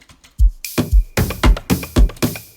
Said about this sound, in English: here are my shakers.